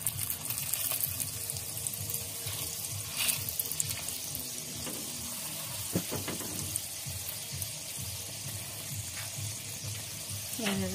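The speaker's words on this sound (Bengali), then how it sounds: "এইভাবে প্রত্যেকটা ভেজে নিতে হবে তেল দিয়ে" Cauliflower parotha frying in oil in a Bengali-style home kitchen, a steady crackling sizzle running throughout with occasional scrapes and soft clatter, no voices over it.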